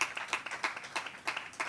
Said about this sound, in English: They deserve a lot of applause